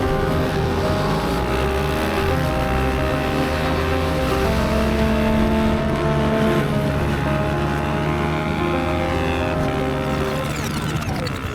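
Race cars revving together at the start of a race, a loud sustained engine roar with rising and shifting tones, several motors overlapping close by.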